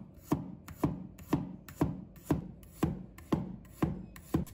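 A knife slices a garlic clove into thin pieces on a cutting board, nine crisp, evenly spaced chops in a steady rhythm, close and distinct with no talking.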